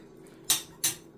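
A lid set over a pot of jackfruit chips soaking in water, giving two sharp metallic clanks about a third of a second apart, close and fairly loud against a quiet kitchen.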